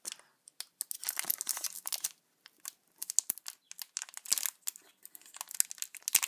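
Sealed foil wrapper of a Pokémon EX booster pack (Dragon Island / Delta Species era) being torn open by hand, close up: a steady run of sharp crinkling and ripping bursts with short pauses, no talking.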